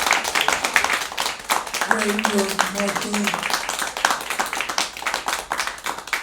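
An audience at an anniversary event gives a round of applause, brisk dense clapping running throughout, with someone speaking briefly over it midway.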